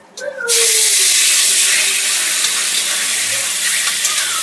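Steamed taro and chickpeas tipped into hot oil in a wok already holding five-spice, dried chili and bay leaf, bursting into a loud, steady sizzle that continues without a break.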